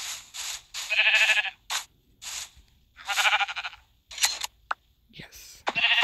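Minecraft sheep bleat in a run of short, loud, nasal bursts, with other brief in-game sound effects between them.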